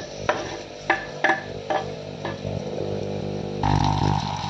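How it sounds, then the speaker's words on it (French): Sliced onion being sautéed in a saucepan: a few spoon scrapes and knocks over a steady frying hiss that swells louder near the end. Close, with a low background hum and no talking. "Je vais faire revenir dedans l'oignon que j'avais sorti hein"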